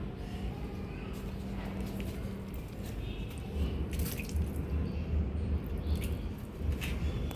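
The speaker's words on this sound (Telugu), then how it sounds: "పలుచగా కొంచెం వాటర్ మనం చిలకరించాలండి." Water is sprinkled lightly onto damp garden soil in a home garden bed, making soft continuous dripping and trickling patters close by, with no one talking.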